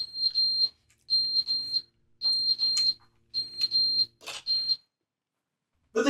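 Fire alarm in the video game The Stanley Parable, clusters of sharp high-pitched beeps repeating in a steady rhythm, fairly loud and close, with brief gaps of silence between bursts.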